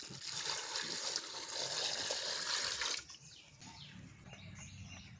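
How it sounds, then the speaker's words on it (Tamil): Water pours into a cooking pot for boiling snails, a splashing trickle for about three seconds that then drops to a quiet background with faint outdoor sounds. "நத்தையை வேகிறதுக்கு தண்ணி சேர்க்குறோம்."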